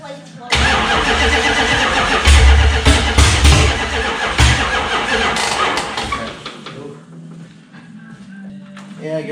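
A Dodge Challenger under restoration cranks over with a loud, rapid starter chug that holds for several seconds, then falters and dies away, while people talk nearby.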